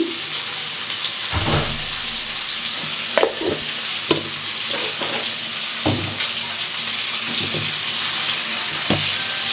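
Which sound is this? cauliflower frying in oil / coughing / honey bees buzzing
cauliflower frying in oil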